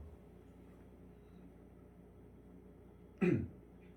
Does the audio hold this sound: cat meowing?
no